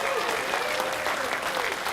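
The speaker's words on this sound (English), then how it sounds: "Let's give all of our honorees a round of applause." An audience at an alumni awards night applauds the honorees with dense, continuous clapping throughout.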